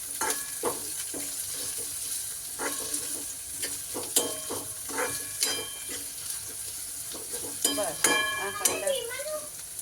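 Onions and green chillies fry in a pan while being stirred, with rhythmic scraping strokes over a soft sizzle and a brief voice near the end.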